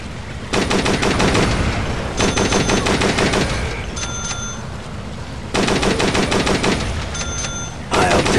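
Rapid automatic gunfire in the mobile shooter Dead Trigger 2, loud and sustained, coming in several long bursts with brief gaps between them.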